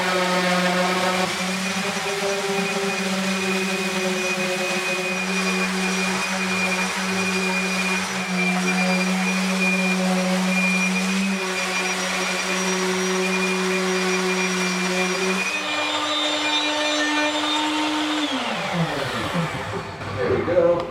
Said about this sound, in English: Hoops sanded back easier and quicker than expected